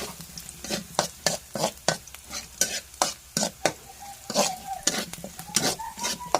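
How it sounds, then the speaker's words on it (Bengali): Onion and dried chili being fried as a tempering for greens: a steady sizzle under repeated sharp scrapes and clinks of a spatula against the pan, in a fairly quick, uneven rhythm, close and clear with no talking. "আমি এখানে শাকের জন্য পেঁয়াজ আর শুকনো মরিচের একটু ফোড়ন করে নিতেছি।"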